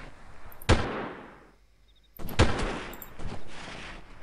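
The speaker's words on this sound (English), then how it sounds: "those shots are getting a little close" Gunfire in the Delta Force video game during an Indonesia mission: two loud, sharp bursts of shots about two seconds apart, followed by a softer crackling tail, with no talking.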